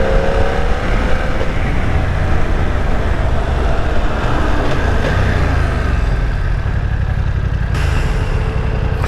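A 2020 BMW F900R motorcycle engine drones loudly and continuously while riding, a steady throaty roar with wind rush and slight shifts in pitch throughout.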